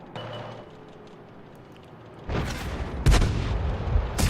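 Tank cannon fire in World of Tanks, a Tier 8 American medium premium shooting at a T-25: low rumbling engine bed, then a loud booming shot followed by a second heavy blast with echoing tail.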